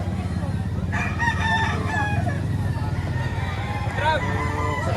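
Rooster crowing at a live poultry market in Lipa, Batangas, a crow rising over a busy background of people talking nearby.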